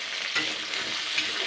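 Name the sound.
jackfruit seeds frying in a pan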